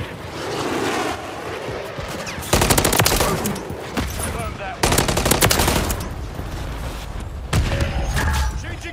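Automatic gunfire crackles in bursts during a Call of Duty MW3 match, loud rapid volleys that start and stop abruptly several times over ongoing game noise.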